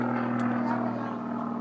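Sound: stunt plane performing aerobatic maneuvers at an air show

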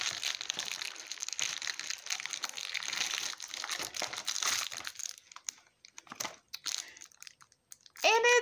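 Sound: opening a recycled pink paper mailing envelope

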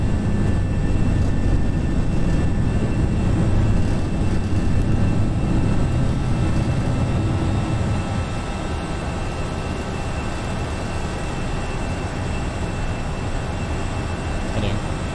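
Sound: FSLabs A321 airliner climbing after takeoff in Prepar3D, video game

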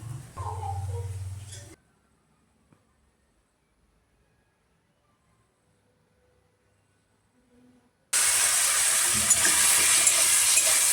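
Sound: masala mushroom with rice frying in a pan

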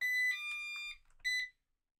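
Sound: robot vacuum beeping

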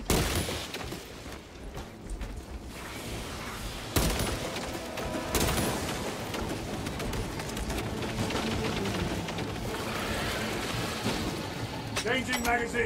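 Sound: gunfire in the video game Space Marine 2

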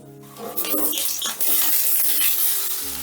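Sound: potatoes frying in hot mustard oil

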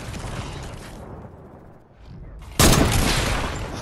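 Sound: shotgun firing in a video game

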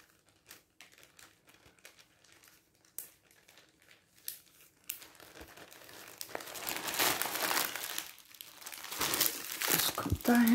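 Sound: crinkling plastic packaging while packing items back in

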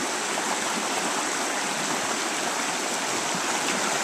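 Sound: river flowing

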